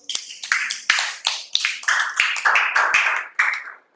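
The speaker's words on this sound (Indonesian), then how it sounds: "Beri tepuk tangan terlebih dahulu." Students in a classroom clap in applause, a quick run of crisp, close individual claps in an uneven rhythm that fades out near the end.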